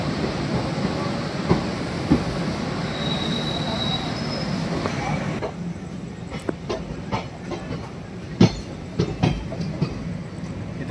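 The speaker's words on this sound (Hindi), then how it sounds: "वहाँ से एक और ट्रेन जो है देखिए खुल चुकी है वर्धमान जंक्शन से।" An express train pulls out of Bardhaman Junction in India, with steady rumbling, wheel squeal and a run of rhythmic clickety-clack wheel clicks over rail joints, close and loud beneath a voice.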